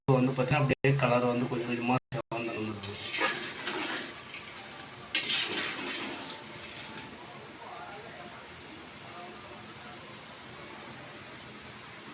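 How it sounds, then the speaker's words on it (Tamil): Gulab jamun made from MTR mix fry in hot oil, giving a steady soft sizzling hiss that continues faintly on its own after a person speaks over the start. "நம்ம எண்ணெயில் போட்டு வறுக்க வறுக்க"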